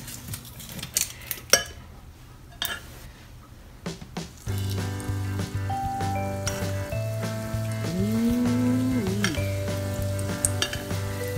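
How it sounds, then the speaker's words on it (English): Fish akara balls sizzle steadily in hot deep-frying oil, a close, continuous crackling hiss with scattered clinks and taps of a utensil against the pot; a brief whistling tone rises over the frying partway through. "Akara is deep fried."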